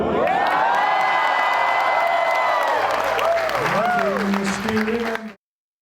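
Crowd applause with cheers and whoops after a short song at a formal Washington event, dense clapping mixed with voices and tones before cutting off abruptly near the end.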